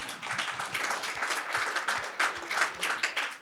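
Audience applause at an Afrikaans language celebration event, a dense, steady patter of many hands clapping with no speech over it.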